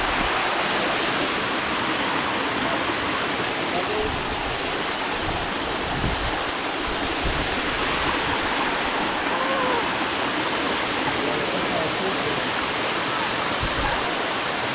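Dark View waterfall in St. Vincent and the Grenadines pours down in a steady, close roar of falling water that fills the whole stretch without a break, with no voices over it.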